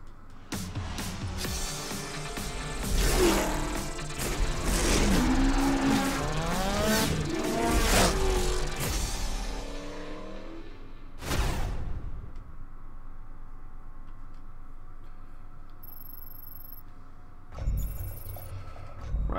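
AI race cars roar and rev through a racing video game, engines loud and layered with tire squeals for about ten seconds, then fading to a quieter hum before another brief burst near the end.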